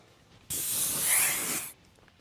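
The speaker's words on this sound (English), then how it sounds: "we're going to spray this gray while we back this with gray" Gray spray paint hisses steadily onto a Pro-Line RC NASCAR truck body in one continuous burst of a little over a second, loud and close, with quiet before and after.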